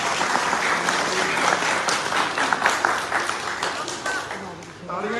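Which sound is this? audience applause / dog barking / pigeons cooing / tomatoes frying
audience applause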